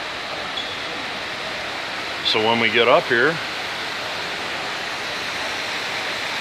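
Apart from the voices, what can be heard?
indoor water fountain splashing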